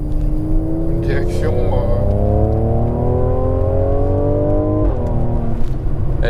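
A 2017 Mercedes C43 AMG coupe engine in sport mode with its exhaust valves open, a loud, steady rising drone that climbs through the revs, briefly dips and builds again, with a voice talking over it.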